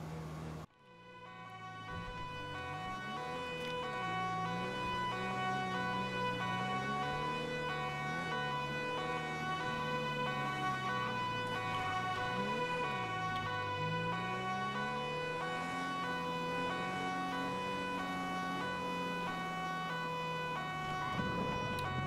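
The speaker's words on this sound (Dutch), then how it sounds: "Altijd als je ter plaatse komt, altijd gelijk sirene uit." An emergency vehicle siren in a roleplay video game wails continuously, its pitch sweeping up and down in slow repeated cycles over a steady engine drone, loud and close for over twenty seconds with no talk.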